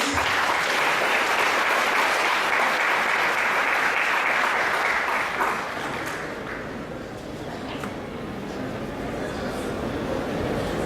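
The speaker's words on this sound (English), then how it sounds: "A big round of applause, please." An audience at a university academic event applauds steadily as a speaker is introduced, a dense wash of clapping that fades somewhat toward the end.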